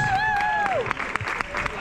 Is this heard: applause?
yes